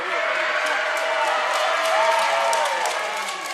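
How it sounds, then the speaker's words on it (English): Spectators at a university varsity netball match in Sheffield keep up a steady roar of screaming, cheering and some clapping, heard as a continuous wash of crowd noise throughout. "You can hear the screams from the crowd."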